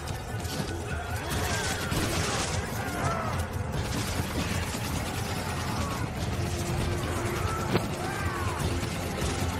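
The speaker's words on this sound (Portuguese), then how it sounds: "Muito tiroteio, muito tiro, explosão." Dense video game benchmark combat: a continuous clatter of gunfire and explosions under many on-screen enemies, busy mechanical cracks and bangs layered over a constant noisy bed, fairly loud throughout.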